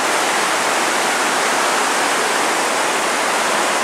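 River water overflows and pours down over rocks into a hole in a wall in Sinks Canyon, a loud, steady, close rushing roar with no voices.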